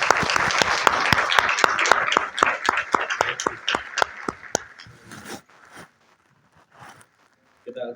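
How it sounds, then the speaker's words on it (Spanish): Audience applause welcoming a speaker at a lecture on the medico-legal side of child abuse. It starts as loud, distinct claps, thins out and fades to near silence, and a voice briefly starts at the very end. "Recibámoslo con un fuerte aplauso"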